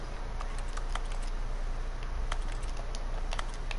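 Rapid keyboard typing from The Stanley Parable video game, a steady run of crisp close key clicks over a constant room hum, with no speech.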